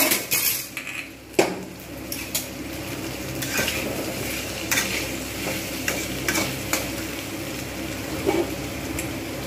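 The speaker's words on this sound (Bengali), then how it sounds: "কুমড়ো আর আলুগুলোকে এবার আমি এর মধ্যে দিয়ে দেবো পরিমাণ মতো লবণ," Pumpkin and potato pieces fry in a pan with salt, a close, busy sizzle under repeated clinks and scrapes of a metal spatula stirring against the pan.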